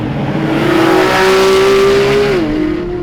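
A Porsche 911 GT3 on a race track screams past close and loud, its engine note climbing in a sustained high whine before dropping sharply as it shifts or backs off, with no voices.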